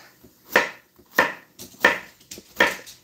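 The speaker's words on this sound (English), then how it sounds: "don't get excited over the chopping sounds" Zucchini being chopped in a hand-pushed food chopper in a home kitchen: four sharp, evenly spaced chopping thuds, close and clear, with nothing else between them.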